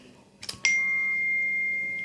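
A smartphone's new-message notification tone: a short electronic beep that holds a steady, clear pitch for over a second, following a brief burst of rustling, with no speech.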